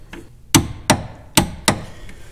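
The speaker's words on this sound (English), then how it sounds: "So let's get those torqued." Bolts on a Dodge Viper front big brake kit being tightened with a torque wrench, producing four sharp metallic clicks in quick succession, close and distinct with no talk.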